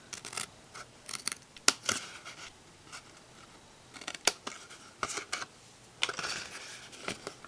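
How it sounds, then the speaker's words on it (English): Scissors snipping a small flap out of scored paper for a Stampin' Up! candy box, a series of sharp, close cuts in irregular clusters with quiet pauses between them. "we're going to cut out this little flap here"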